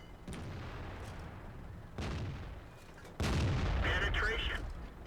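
Heavy tank cannon shots in World of Tanks from a Kanonenjagdpanzer, three booming reports spaced a second or so apart, the last loudest, with a voice talking over the gameplay.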